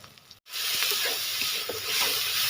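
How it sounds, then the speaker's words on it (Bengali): Ground spices, including salt, turmeric, black pepper, chilli and coriander powder, hit hot oil in a pan for a masala mushroom and potato curry. A brief quiet gap gives way to a loud, steady hissing sizzle that fills the rest of the clip. "মশলাগুলোকে ভালোভাবে কষিয়ে নেব।"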